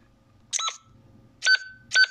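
In a smartphone metal detecting game, the detector signal sounds as three short electronic beeps, a higher chirp followed by two matching lower tones about half a second apart, clear over faint background murmur.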